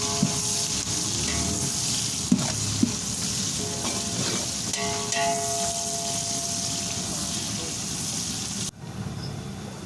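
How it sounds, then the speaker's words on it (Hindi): Onions sizzle loudly and steadily in a pan, browning while being stirred, with a few sharp clinks of the spoon against the metal and a continuous frying hiss that drops off abruptly near the end. "अब हम प्याज को हलाएंगे, अच्छी तरह इनको भून लिया जाएगा, ब्राउन कर लिया जाएगा।"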